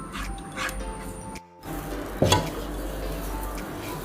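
Rava simmering in milk on a medium flame, stirred in a pot with a spoon, quiet scraping and bubbling with a brief louder clink of utensil against the pan.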